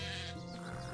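Sheep in the colony-building game Craft the World gives one sustained, wavering bleat, clear and close over a quiet background.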